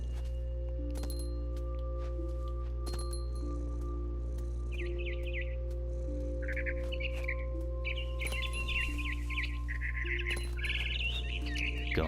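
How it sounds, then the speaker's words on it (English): Bird calls in the video game What Remains of Edith Finch: several short, bright chirps and trills come in bursts over a steady low ambient drone, fairly clear and close. "Come here, bird."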